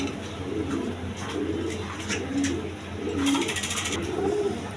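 Coloured pigeons coo softly and repeatedly at a pigeon sale, low murmuring calls continuing through steady background noise with occasional sharper clicks.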